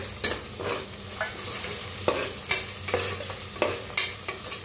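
Curry leaves and peanuts roast in a hot pan, a steady faint sizzle broken by repeated scraping strokes of a spatula stirring them around.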